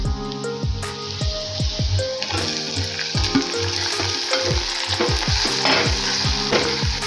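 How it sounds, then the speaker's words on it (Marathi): Tomatoes frying with sautéed onions in a pan for a drumstick curry, a loud continuous sizzle with repeated clinks and scrapes of a spoon stirring against the pan, close up and steady throughout. "आता यामध्ये आपण टोमॅटो टाकून घेऊयात"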